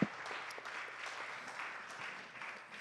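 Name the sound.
audience applause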